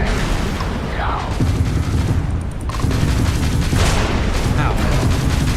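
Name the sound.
gunfire in the video game Starfield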